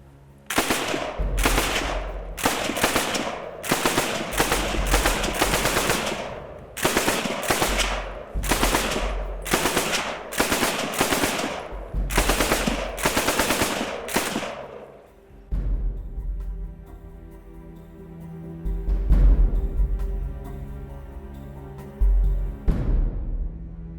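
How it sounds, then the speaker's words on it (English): A Lewis gun machine gun fires outdoors in repeated long bursts of loud, rapid shots separated by short pauses, then falls quiet with a few isolated shots near the end. "I want to see how hard it would have been for Hank to fire his Lewis gun during the assault on Vimy Ridge"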